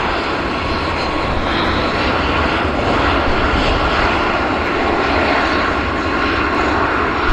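A classic propeller airplane passes at Vancouver Airport, its loud engine roar steady and continuous throughout with no talking.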